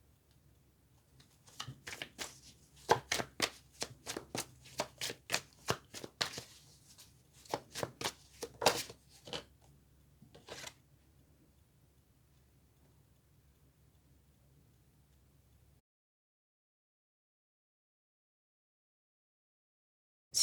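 A deck of cards being shuffled during a card reading, a series of crisp riffling bursts and taps close by for about ten seconds, then silence.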